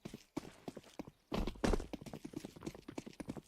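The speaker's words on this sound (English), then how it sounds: "I don't remember hearing horses before on Inferno" Horses' hooves clip-clop in quick, even steps on the Inferno map of a competitive shooter match, fairly faint, with a louder burst of hoofbeats partway through and no talk over it.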